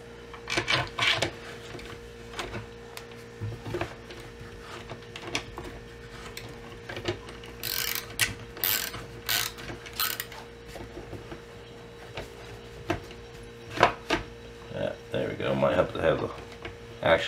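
Ratchet wrench clicks while tightening the action screws of a Magpul 700 Hunter rifle stock, coming in short bursts of rapid ticking spread through the clip, close by, with someone talking in between.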